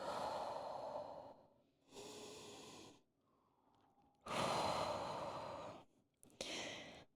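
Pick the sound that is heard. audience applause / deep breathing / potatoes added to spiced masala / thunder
deep breathing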